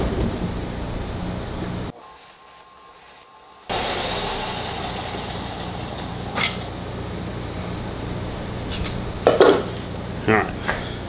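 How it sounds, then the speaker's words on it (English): A bench grinder grinds a square onto a handmade flintlock trade gun wiping stick, a steady broadband grinding hiss that cuts out briefly, then resumes with a few sharper scraping bursts near the end. "let's go over to the grinder and grind this square"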